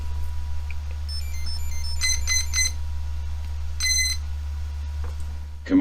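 A drone's ESCs play short electronic beep tones after a PX4 flight controller reconnects. Several quick bursts of high, clean beeps come in rhythmic groups over a low steady hum.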